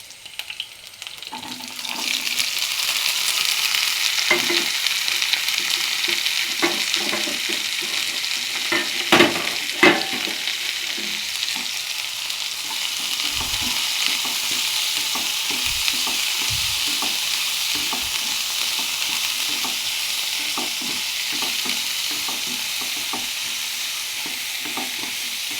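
Chopped onion sautés in a hot pan with a steady sizzle throughout, broken by several clattering stirs and spoon knocks, close and fairly loud with no voices.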